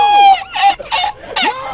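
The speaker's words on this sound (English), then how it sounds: "Get rid of that chicken, man." A chicken in PUBG clucks close and loud in a quick series of four or five squawks, the first a drawn-out rising cry.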